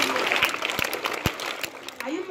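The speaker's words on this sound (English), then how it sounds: "Clap for your madam, clap for your mommy." A group of schoolchildren clap in short, uneven bursts at a community campaign event against sexual violence, sharp hand slaps standing out over ongoing adult speech and a loud, busy room.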